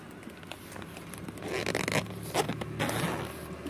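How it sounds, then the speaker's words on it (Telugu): A zipper on a gift bag is pulled open in one continuous, close, scratchy zip lasting a few seconds, with light crinkling around it inside a car. "అండ్ ఇంకొక జిప్ ఉంది దీంట్లో. ఇంకొక జిప్ ఏంటో కూడా చూసేద్దాం మనం."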